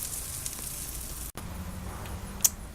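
A pat of butter sizzles with bacon-wrapped smoked onions, a soft, steady frying hiss with a faint crackle, quiet and close, briefly cutting out midway.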